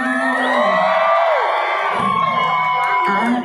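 A concert crowd at a market cheers and whoops loudly, with overlapping shouting voices and high yells layered over a continuous roar for the whole stretch.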